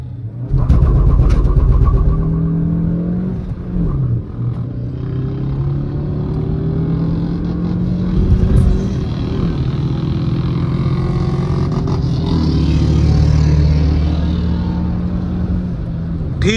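Suzuki Grand Vitara base model (2024) launching hard with traction control switched off, its engine roaring loudly and climbing through revs in a sustained, close rumble with tonal sweeps as it accelerates, no talk over it.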